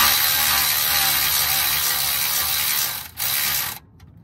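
Ratchet wrench with a 17 mm socket clicking steadily as it snugs down Mazda engine mount bolts, a close, continuous rapid pawl chatter that breaks briefly near the end and then stops.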